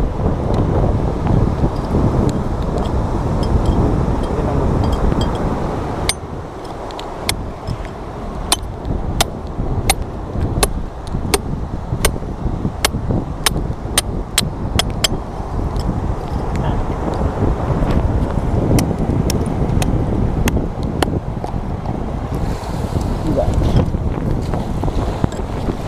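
Strong wind buffets the microphone on a rocky seashore where shellfish are gathered among the rocks, a steady loud roar with scattered clicks and knocks, with people talking intermittently.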